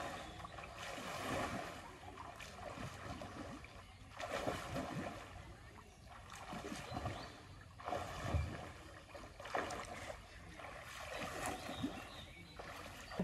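Water splashing in rhythmic surges as a swimmer does backstroke, with repeated strokes and sloshing, moderately close and fairly faint, with no clear talk.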